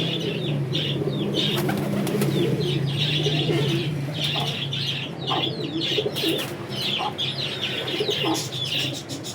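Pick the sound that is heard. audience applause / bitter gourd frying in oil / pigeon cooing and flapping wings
pigeon cooing and flapping wings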